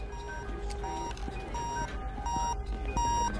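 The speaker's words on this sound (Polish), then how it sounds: "alarm zbliżeniowy" An air traffic control proximity alarm sounds in repeated electronic beeps in a regular pattern, steady and moderately loud over a low room hum.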